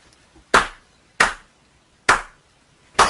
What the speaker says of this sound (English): You can stand up and you can give us a round of applause.